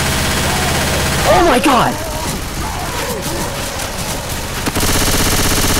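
Rapid Uzi submachine gun fire in Left 4 Dead 2, continuous loud bursts of gunfire under excited voices, with a shout partway through.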